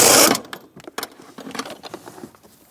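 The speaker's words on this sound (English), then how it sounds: "you'll find a 15 millimeter nut. Remove it." A 15 mm nut being removed beneath the steering column dash of a 2000-2006 Chevrolet Tahoe: a loud metallic rattle opens, then a run of quick, light clicks and taps from the wrench and nut, close by.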